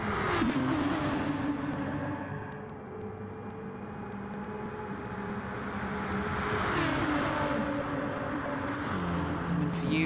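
Aston Martin and Porsche GT race cars at Monza, engine notes rising and falling as a close pack passes, a sustained loud roar swelling again near the end.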